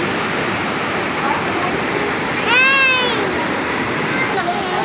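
Dibulo Falls waterfall in Dinapigue, Isabela, a steady broadband rush of falling water, close and continuous, with a brief voice or animal-like call rising over it near the middle.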